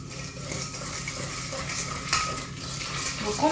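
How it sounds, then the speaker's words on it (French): A spoon stirs sugar into a cake batter in a bowl, with continuous scraping and clinking under a steady wash of background noise. "j'ajoute le sucre et je viens mélanger évidemment avec ma cuillère magique"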